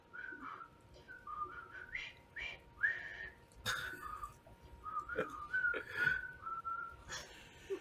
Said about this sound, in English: I start whistling.